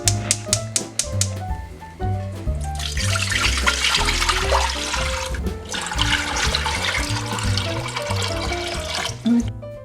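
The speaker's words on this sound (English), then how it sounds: "In a separate pot, we're gonna add 12 cups of water." Water gushes noisily into a cooking pot as twelve cups are added for Christmas ponche, a sustained splashing rush under upbeat background music.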